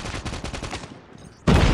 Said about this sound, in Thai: ตั้มเล่นแต่ปืนกลใครก็เล่นได้